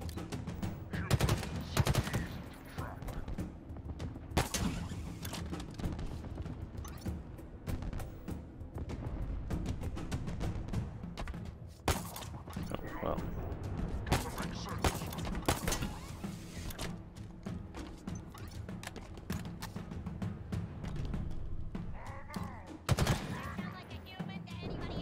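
Rapid bursts of gunfire in the shooter Halo Infinite, loud and near, sustained through most of the stretch with overlapping shots and mechanical clatter, and a sharp crack near the end.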